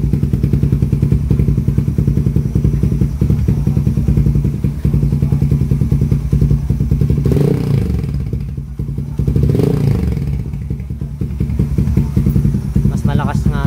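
A Raider 150 Fi motorcycle fitted with a high-mount shorty power pipe exhaust with a 51mm elbow idles and revs close by, its loud, rapid throbbing exhaust pulses swelling twice in short throttle blips before settling back.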